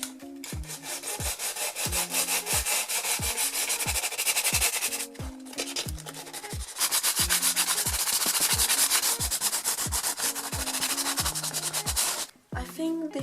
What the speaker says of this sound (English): just to be sure I'm gonna sand it a little bit before.